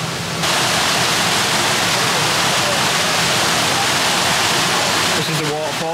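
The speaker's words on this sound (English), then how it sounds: "This is the waterfall that feeds the pool where the alligators are kept." A steady, loud roar of a waterfall feeding an alligator pool at Gaylord Palms resort in Kissimmee fills the scene without a break, broad and hissing, with a faint voice briefly audible near the end.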